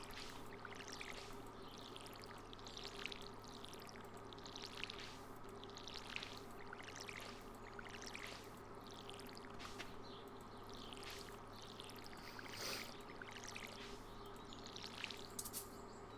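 A watering can pours water over crops in the Stardew Valley farming game, giving soft, repeated splashing pours. They sit fairly quietly over a steady ambient bed of birdsong and insect buzz.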